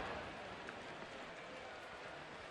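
Rain falling at a baseball stadium in Cleveland on opening day, a steady even hiss of drops with no pauses or distinct impacts.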